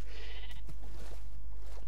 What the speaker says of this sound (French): Donc là, il y a des moutons.